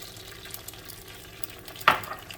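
Egg hitting a hot pan for pad thai with shrimp, a sudden sharp sizzle burst near the end over a low steady frying and stirring hiss, close up with no talking.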